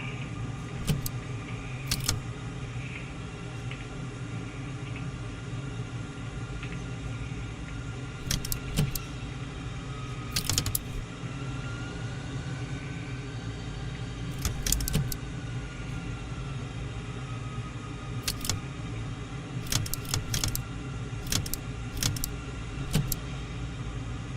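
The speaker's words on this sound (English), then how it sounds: "I'm sorry about the clicking noises" Clicking noises during an F-14 Tomcat flight in Microsoft Flight Simulator, sharp clicks, sometimes single and sometimes in quick clusters, over a steady engine drone.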